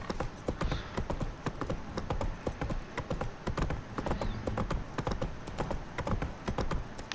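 Horse hooves gallop in The Witcher 3 video game, a steady rapid clip-clop rhythm of moderate loudness running throughout with no pause.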